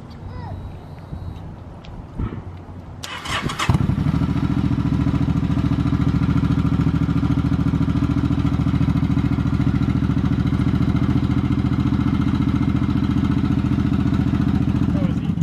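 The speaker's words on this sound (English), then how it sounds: "What I'm trying to do now is get to the battery so we could actually jump start it." A salvage-titled Suzuki Boulevard motorcycle engine catches after a jump start, quiet handling noises giving way to a loud, steady idle that runs on without a break.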